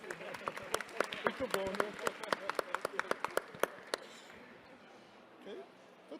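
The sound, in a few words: applause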